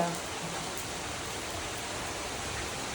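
Heavy rain falling outdoors with wind during a power cut, a steady broad wash of noise that stays even and fairly close throughout.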